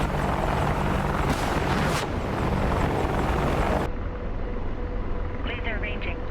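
Video-game Apache helicopter rotor and engine roar loud and steady, close by, with a burst of game effects midway; later the mix thins and radio-style voices chatter over it.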